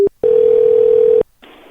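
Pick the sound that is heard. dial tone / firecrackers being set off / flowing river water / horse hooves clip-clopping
dial tone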